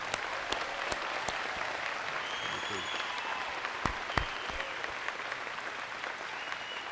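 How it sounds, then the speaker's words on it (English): Sustained applause from a large crowd at a college commencement ceremony, steady and broad, with a few sharper individual claps and faint voices mixed in. "A round of applause, please"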